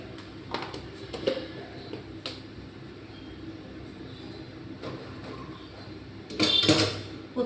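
Lid set onto a cooking pot on the stove, a few faint clinks spread through a quiet kitchen and ending in a brief, brighter metallic clatter near the close.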